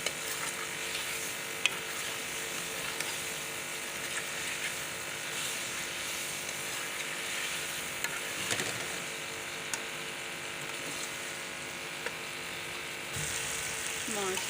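Half a kilo of potatoes fry in a pan for a spicy aloo dish, a steady soft sizzle with scraping stirs and occasional clinks throughout, over low room hum.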